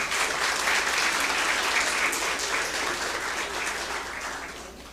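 A crowd claps steadily in dense, sustained applause that tapers off slightly toward the end.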